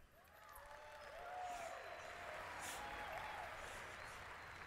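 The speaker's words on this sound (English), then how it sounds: "we're clapping because we now have a place to sit" A small group claps, the applause swelling and holding steady for several seconds, with faint voices and chatter mixed underneath.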